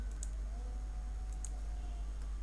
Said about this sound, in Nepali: राइट क्लिक गर्छु